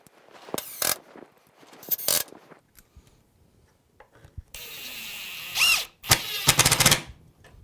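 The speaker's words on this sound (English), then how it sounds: "time to start putting in some pocket hole screws." A power drill driving pocket hole screws into wood for a raised dog bowl stand, several short high-pitched whirring bursts near and loud, then two longer sustained runs with pauses between.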